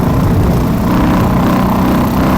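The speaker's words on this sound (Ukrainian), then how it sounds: "Даю газу на оборотах нормально" A loud, close motorcycle engine drones at high revs, rough and steady throughout, with a throbbing low rumble and no speech.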